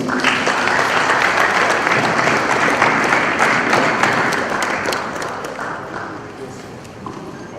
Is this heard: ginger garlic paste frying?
no